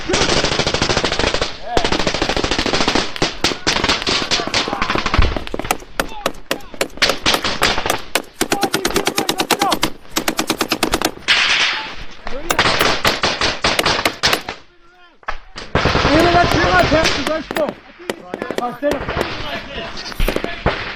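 An M240B machine gun fires long, rapid bursts in combat against Taliban fighters, loud and close, with short gaps between bursts and a voice heard among them.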